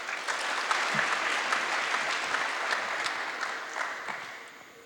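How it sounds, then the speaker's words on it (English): Audience at a one-year anniversary celebration for a helicopter company in Guyana applauds steadily for nearly five seconds, a dense, fairly close wash of clapping that holds even and then tapers slightly at the end. "Just give him a round of applause."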